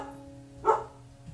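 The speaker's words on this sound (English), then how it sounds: "So if you hear barking" A single short dog bark sounds once at moderate distance over a faint steady hum, then quiet.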